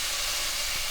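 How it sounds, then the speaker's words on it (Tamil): Bitter gourd fries in hot oil in a pan, giving a steady, close, unbroken sizzling hiss with no voices. "பாவக்காய் ஆயில்லையே நல்லா வதக்கணும்."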